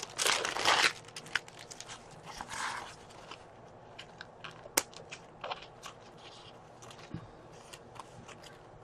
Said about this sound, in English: Let's get the wax paper edge off.